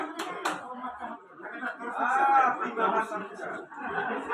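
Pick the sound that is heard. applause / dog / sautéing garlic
applause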